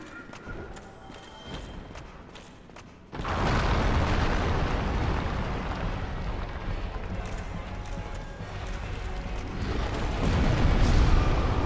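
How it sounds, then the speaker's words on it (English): Fire explosion from a side-slice attack in Dark Souls, a sudden loud burst at about three seconds that leaves a dense, roaring rumble running to the end, louder still near the close. "Nope, side slice with fire explosion."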